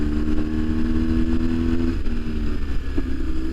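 A BMW R1150 GS motorcycle's exhaust pops a few times over a steady, loud engine drone heard up close while riding.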